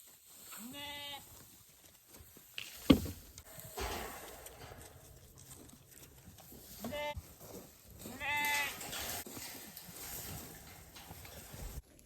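Sheep in pens bleat several times at uneven intervals, some nearer and some farther off, with rustling and shuffling between the calls.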